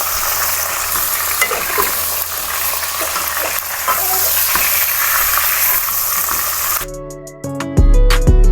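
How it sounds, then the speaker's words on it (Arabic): Meat seared in hot oil over browned onions sizzles steadily and loudly up close, with a few stirring scrapes, before the sound cuts off near the end. "نبدأ اللحمة صدمة في الزيت، نقلبه"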